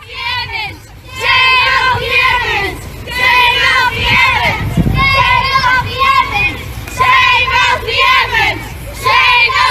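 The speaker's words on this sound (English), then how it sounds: "This was the crowd in town last night. This was on O'Connell Street in town last night." A large crowd of marchers fills O'Connell Street in Dublin, a loud, dense mass of voices with children's shouts rising in repeated swells and chants, continuous and close throughout.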